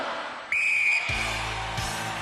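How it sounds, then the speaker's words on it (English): A referee's whistle sounds the start of an eliminator race on a 1993 UK Gladiators show, one sharp, loud sustained blast lasting about half a second, followed by rumbling crowd and arena noise. "Gail, you will go on my second whistle."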